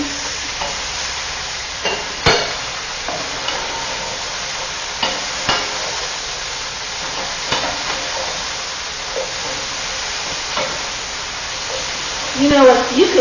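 Peas stirred in a frying pan for a meatless vegetable frizzle sizzle steadily, with a spoon scraping and knocking against the pan at irregular intervals and a voice speaking over it.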